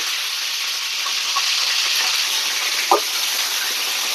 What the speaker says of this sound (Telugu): ఇలా వీటిని యాడ్ చేసుకొని బాగా వాడ్చుకోవాలి